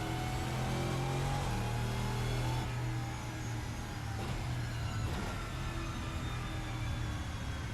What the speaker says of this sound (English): Listen to some of the drivetrain noises a bit